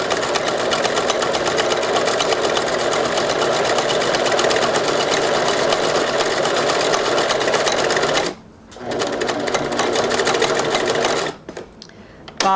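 A sewing machine stitches a buttonhole, finishing with a few stitches on the spot, running steadily and loud for about eight seconds with two short pauses near the end.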